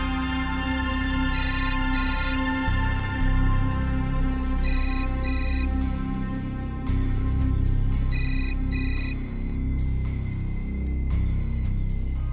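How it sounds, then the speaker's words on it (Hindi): A phone ringtone chimes in repeated bursts over a steady background of music, with no talking. "अनु, तुम फोन क्यों नहीं उठा रही हो?"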